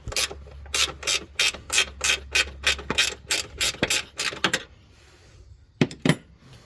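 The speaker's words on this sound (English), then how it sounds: "That's what I brought my trusty 10 millimeter ratchet wrench for." A 10 millimeter ratchet wrench loosens power steering bolts on an Acura MDX, giving fast runs of close, sharp metallic clicks in bursts, then a pause and a couple of final clicks.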